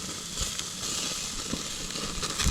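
Brussels sprouts sizzle in a pan on a camping burner during cold-weather Jeep camping, a steady close hiss and crackle with a few sharper pops.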